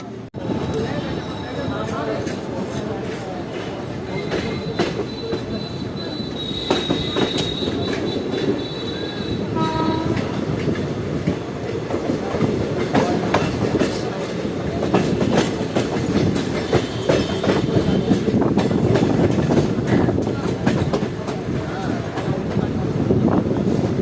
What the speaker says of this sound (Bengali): ফাইনালি আমাদের ট্রেন ছেড়ে দিল দেখতে পাচ্ছ তোমরা পাকুড় রেল স্টেশনে